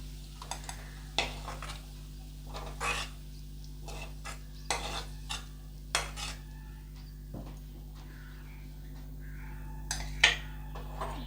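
A utensil scrapes and clinks against a pan while small sautéed onions are stirred, giving irregular sharp taps and scrapes over a faint steady hum, fairly close and with no talking.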